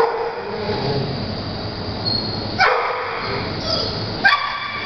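Dogs at an animal shelter bark in the kennels, two sharp, echoing barks standing out over a constant rattling, clattering background din.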